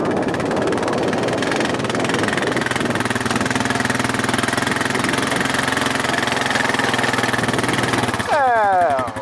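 A Deutz-Allis 1918 tractor engine runs loudly and steadily close by as it is shifted into gear, ending in a brief mechanical whine and clunk.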